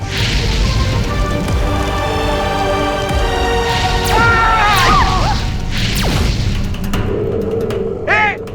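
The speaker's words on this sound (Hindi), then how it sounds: "अब दिवाली के पटाखे कौन फोड़ रहा है बाहर?" Booming explosions likened to Diwali firecrackers crack and thud outside a flying house in a fantasy TV show, mixed with whooshes, clatter and dramatic music.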